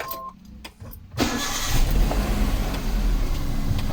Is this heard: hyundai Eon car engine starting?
yes